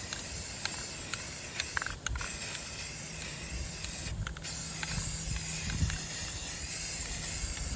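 Sandable filler primer spray paint applied in light passes from about a foot away onto a 3D print, a steady close hiss lasting throughout with a couple of short breaks.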